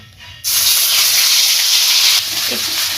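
Boiled paste of garlic, ginger and tomato hitting hot oil, starting with a sudden loud hiss that settles into a strong steady sizzle and then eases slightly near the end.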